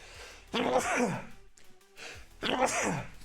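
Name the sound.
sneeze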